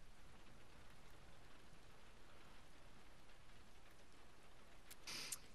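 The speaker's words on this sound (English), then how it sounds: "Let's wait out the rain in the booth." Steady rain falls in the video game Road 96, a soft continuous hiss of drops that stays even and fairly quiet throughout, ending with a brief sharp click.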